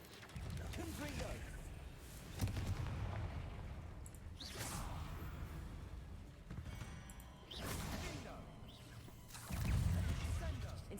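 Spell blasts from the Confringo fire spell in Hogwarts Legacy, several booming bursts with whooshes spaced a few seconds apart, punchy and close, with a voice speaking between them.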